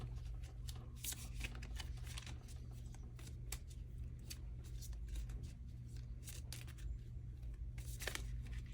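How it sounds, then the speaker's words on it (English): Repeated crisp riffling of a deck of cards being shuffled, close by, over a low steady background hum. "let's shuffle this up."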